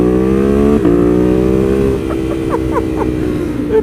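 Exhaust pops crackle from a 2020 Ducati Monster 821 Stealth motorcycle on a ride. A loud, near engine drone drops off, then a quick string of sharp pops rattles over the lower rumble.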